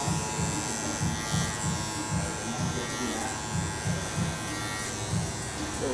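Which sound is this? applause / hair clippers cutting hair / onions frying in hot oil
hair clippers cutting hair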